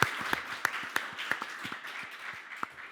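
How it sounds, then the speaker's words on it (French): A small crowd claps for the mayor of Laval, scattered individual claps blending into moderate, steady applause at mid distance throughout. "Applaudissements pour le maire de Laval"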